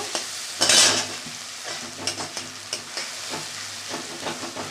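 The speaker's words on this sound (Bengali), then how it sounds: "ভালো করে কষিয়ে নেব।" Mustard-poppy paste with green chili, turmeric and spice water sautéing and being stirred in a pan, a brief louder sizzling scrape near the start followed by soft intermittent stirring clicks and a low steady frying hiss.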